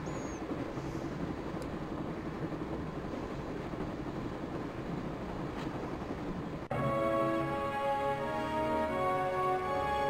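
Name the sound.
train in the video game Broken Sword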